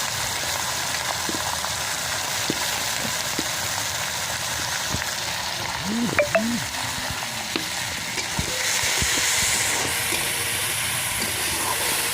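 Chopped onions sizzle in hot oil with whole garlic cloves, with a steady crackle and a few scraping stirs of a spoon, close by.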